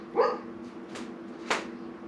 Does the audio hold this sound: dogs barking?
yes